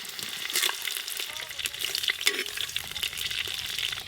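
Whole spices (bay leaf, dried red chillies, cumin seeds and cinnamon) sizzle and crackle steadily in hot mustard oil inside a clay pot over a clay stove, with scattered pops and a few stirring scrapes, close and fairly loud.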